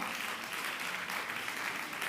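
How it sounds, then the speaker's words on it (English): Audience applause at the grand finale of a public sector debate competition: a dense, steady round of clapping from a crowd, sustained at even loudness throughout with no one speaking over it. "You keep the applause going."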